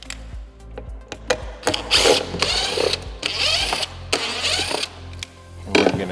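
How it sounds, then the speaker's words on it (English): T25 screws are driven out of the speaker pods on a 2024-2026 Street Glide Ultra motorcycle, heard as several close, short whirring bursts of a powered driver separated by brief clicks and pauses. "we're going to remove the speakers by taking out these 4"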